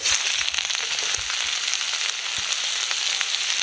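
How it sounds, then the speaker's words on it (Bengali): Chopped onion fries in mustard oil in a wok, a dense, steady crackling sizzle close and fairly loud throughout, with faint low clatters. "এবার আমি কড়াইতে দিয়ে দেব একটু সর্ষের তেল। এবার আমি এখানে একটা বড় সাইজের পেঁয়াজ কুচি করে কেটে নিয়েছি। এই পেঁয়াজটা দিয়ে দেব তেলের মধ্যে।"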